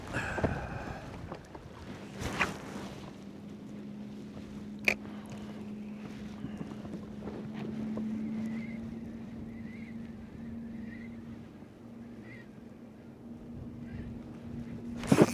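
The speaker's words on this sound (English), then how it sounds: "the wind is blowing hard and the current is ripping through here" Hard wind blows over Horseshoe Creek at Cedar Point during trout fishing, a steady broadband rush with a low boat-like hum running throughout, broken by a few brief sharp knocks.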